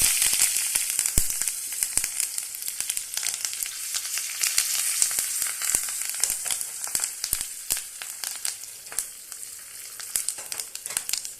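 Asafoetida and curry leaves sizzle in hot oil for a radish sambar, a dense steady crackle with sharp pops scattered throughout, close and loud with no talking.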